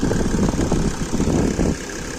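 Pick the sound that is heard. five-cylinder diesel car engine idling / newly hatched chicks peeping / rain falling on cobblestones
five-cylinder diesel car engine idling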